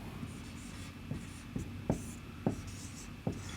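An equation written out by hand, with a pen or chalk stroke tapping at a slow, irregular pace, about six distinct strokes over a steady low background hum, fairly faint and with no talking.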